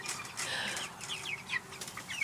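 Backyard chickens cluck and chatter close by during a morning check on the coop, a series of short, rising clucks and squawks repeating irregularly over low outdoor background noise.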